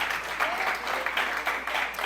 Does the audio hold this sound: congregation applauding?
yes